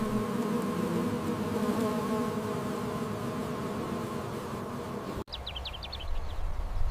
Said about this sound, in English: Bee lives in a hive.